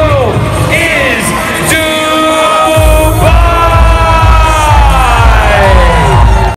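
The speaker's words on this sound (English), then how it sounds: "Let me hear you scream, guys." A large crowd screams and cheers at the Dubai Run fun run, a continuous loud wash of whoops and yells with sustained tonal horn or whistle lines over a thumping beat.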